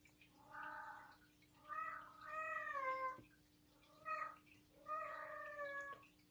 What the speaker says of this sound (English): And you hear my cat in the background.